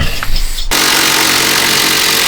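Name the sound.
power ratchet working on car coilover bolts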